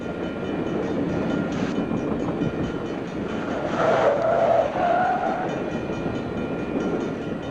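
A train rolling past a road crossing, a loud steady rumble with a rising squeal of wheels on rails midway, heard on an old film soundtrack.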